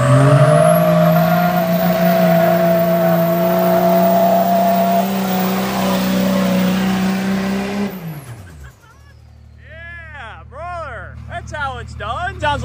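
Diesel truck with a fourth-generation Cummins engine on a new tune, running with a loud, steady rumble that drops away abruptly partway through, followed by a much quieter idle while voices talk over it.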